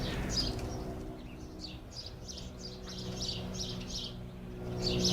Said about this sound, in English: Let the birds speak.